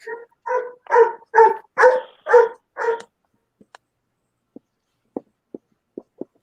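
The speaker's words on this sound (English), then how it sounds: "My dog hears your dog and is like, what is going on?" A dog barks about seven times in a quick, loud, close burst, then falls silent apart from a few faint, sparse clicks.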